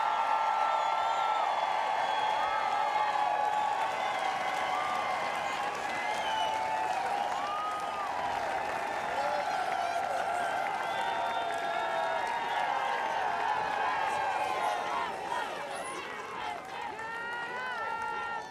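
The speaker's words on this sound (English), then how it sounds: "please join me in yet one more round of applause for your 2013 European and United States Solheim Cup teams" Sustained crowd applause and cheering for the 2013 European and United States Solheim Cup golf teams at the opening ceremony, a broad steady wash of clapping from a large outdoor audience, with a voice carrying over it.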